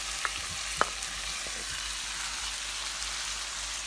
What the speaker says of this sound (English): So now I'm going to add my ackee.